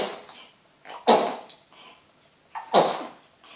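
A two-month-old baby sneezes twice, small sharp bursts spaced about a second and a half apart, each followed by soft breathy sounds, close and with no talk.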